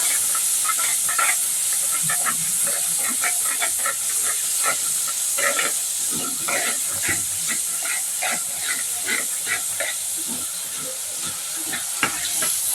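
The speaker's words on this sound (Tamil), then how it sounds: "புளி தண்ணி நல்லா கொதிக்கிட்டோம்" A pot of tamarind water boils steadily with a constant steamy hiss and a dense patter of small bubbling pops throughout, close and fairly loud.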